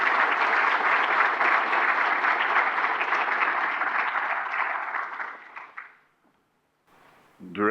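A large audience at a formal lecture applauding to welcome a speaker, sustained loud clapping that fades out after about six seconds, then a short pause before a voice begins speaking.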